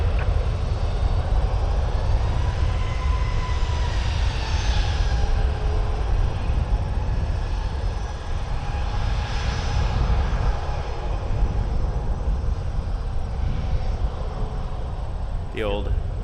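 An Airbus A319 airliner passes at Toronto Pearson Airport in a crosswind, a loud, steady engine roar filling the whole stretch with a slowly shifting whine on top.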